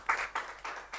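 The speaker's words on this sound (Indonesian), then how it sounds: "tepuk tangan untuk Bu Ica." Several scattered hand claps from a small group, a brief burst of polite applause at a quiz-style talk show, fairly faint and without voices over it.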